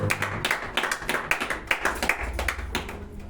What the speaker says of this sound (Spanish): Vamos a darle un fuerte aplauso a tu vida.